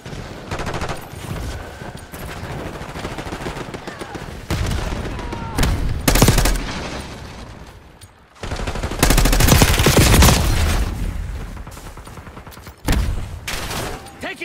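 Sustained gunfire from the video game Call of Duty: Warzone, loud, dense bursts and volleys with a few heavier booms, rolling almost continuously with a brief lull midway.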